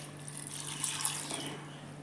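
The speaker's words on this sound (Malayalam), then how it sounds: "നമുക്ക് കുറച്ച് വെള്ളം ഒഴിച്ച് വെക്കാം" Water pours steadily into a pressure cooker holding tapioca, a soft continuous splashing gurgle heard close up with no talking.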